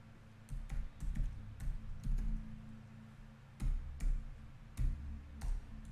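Typing code on a computer keyboard, a close, irregular run of clicking keystrokes in quick bursts with short pauses, over a faint low hum.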